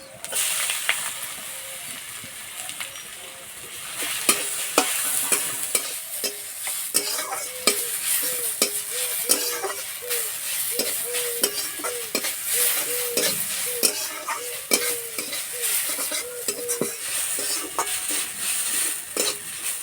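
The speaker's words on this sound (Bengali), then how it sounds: "আলুটা কিছুক্ষণ এইভাবে নেড়ে নিয়েছি।" Grated potato with ginger, green chilli and cumin seeds fries in oil in a pan, with a continuous sizzle under steady, rhythmic scraping strokes of a spatula lasting about twenty seconds.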